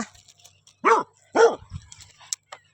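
A dog barks twice, loud and close, with a short pause between, followed by a few faint whimpering yips in an otherwise quiet setting.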